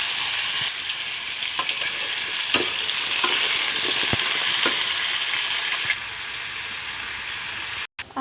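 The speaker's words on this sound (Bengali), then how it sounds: "আলু ভাজা হয়ে গেছে, এখন নামিয়ে নেব।" Potatoes frying in oil with salt and turmeric give a loud, close, continuous sizzle like rain, broken by occasional stirring clicks and dropping briefly near the end.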